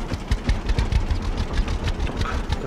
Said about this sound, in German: Aber der Traktor, der klingt schon ganz nice.